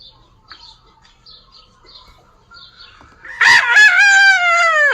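A rooster lets out one loud, drawn-out crow that bursts in after a few seconds of faint background noise and holds to the end.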